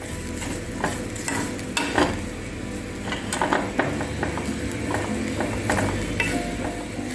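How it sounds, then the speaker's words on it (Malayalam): Grated coconut being roasted in a pan for carrot sambar, with a soft continuous sizzle and repeated scraping and clinking of a spoon stirring against the metal, close and steady. "ഒരു ചെറിയൊരു മുറി നാളികേരമാണ് ഞാൻ ആവശ്യത്തിനനുസരിച്ച് എടുക്കാം. നല്ലതുപോലെ ഒന്ന് വറുത്തിട്ട് നമുക്ക് അരച്ചെടുക്കണം."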